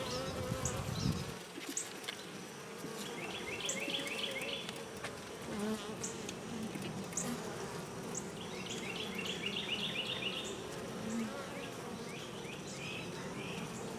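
Honey bees buzz steadily from an opened nuc hive, a dense continuous drone that fills the whole stretch. Occasional bird chirps are faint in the background.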